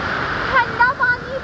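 Rushing water from a small waterfall in Kerala fills the scene with a steady, close roar, while a person talks over it.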